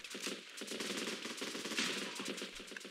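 Rapid gunfire rattles through a battle in the Running with Rifles video game, dense bursts of shots cracking continuously at moderate distance with no voices.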